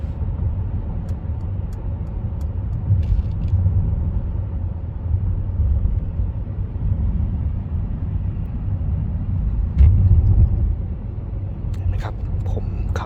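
Quiet interior of a 2022 Mercedes-Benz S350d while driving: a steady, soft low road and engine rumble fills the cabin continuously, with a few faint clicks and no talking.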